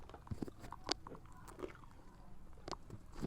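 Crispy pork belly skin being bitten and chewed up close, with a series of sharp, brittle crunches that come in irregular bursts and are heard alone without talk.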